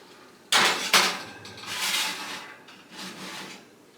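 Tray of red peppers being slid into a home oven, two sharp metallic clanks of the tray and rack close up, followed by softer rattles and a closing thud.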